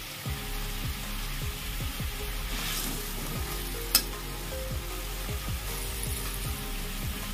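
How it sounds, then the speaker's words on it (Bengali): Fried pomfret and small fish slide into bubbling mustard-style fish curry gravy, a loud continuous sizzle and bubbling with rapid, regular crackles and one sharp clink partway through. "এবার এর মধ্যে দিয়ে দেবো মাছগুলো।"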